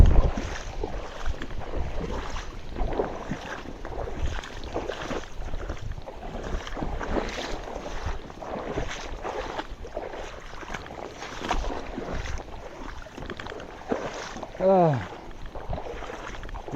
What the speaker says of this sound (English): I chose to record on the windiest day